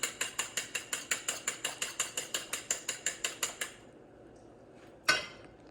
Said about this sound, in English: The more you whisk, the lighter your omelet will be, fluffier. So we're gonna whisk.